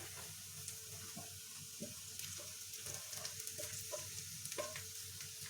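Sauerkraut sizzles and crackles with onion in a hot frying pan, with occasional soft stirring scrapes; a quiet, steady frying sound heard up close.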